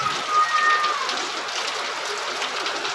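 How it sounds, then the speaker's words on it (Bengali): Heavy monsoon rain pouring down in a steady dense hiss, loud and continuous, with a faint tonal whine briefly at the start. "তো দেখতেই পাচ্ছ ঝমঝমিয়ে বৃষ্টি পড়ছে"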